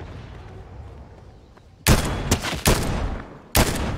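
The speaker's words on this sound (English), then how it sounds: "Shooting at the guys over here." Fortnite gunfire in a house fight: after a quiet stretch of low game ambience, four loud, sharp shots ring out close by, three in a quick ragged cluster and a final one after a short pause.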